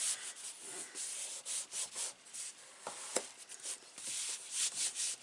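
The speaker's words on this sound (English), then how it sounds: "just give this a good rub." Paper for an envelope mini album rubbed firmly by hand in repeated close, scratchy strokes of uneven length, with no talking.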